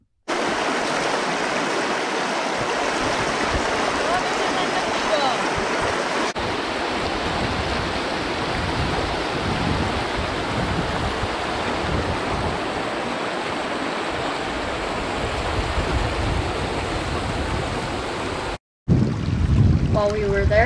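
A river rushes through Johnston Canyon in Banff, a loud, steady wash of flowing water that stays constant and close, broken by a brief cut near the end.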